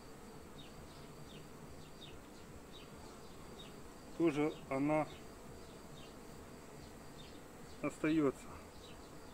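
Honeybees hum around an opened beehive late in the day, a faint, steady insect drone under a voice that speaks in two short bursts.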